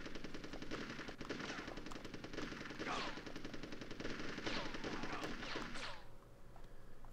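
Army Men: Sarge's Heroes video game gunfire keeps up a continuous, rattling machine-gun barrage with layered overlapping shots and sudden sharp cracks, fairly faint in the mix, then eases off near the end.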